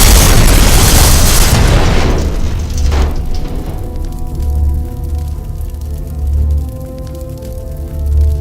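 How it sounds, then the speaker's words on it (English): A mine shot and exploding in the video game Headhunter, one loud, close blast with a heavy low boom that decays into rumbling debris and a lingering low throb. "Did you know you could shoot the mines?"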